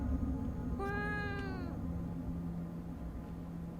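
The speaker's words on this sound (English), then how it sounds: "There's a cat." A cat in the horror game Fears to Fathom lets out a single drawn-out, wavering meow over a steady low hum of background ambience.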